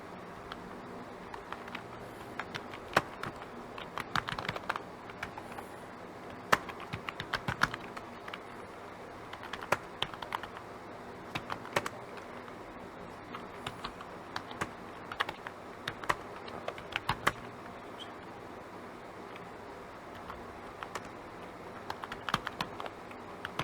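Typing on a computer keyboard comes in irregular bursts of sharp clicks and taps, close up, with brief pauses between runs of keystrokes and no other sound.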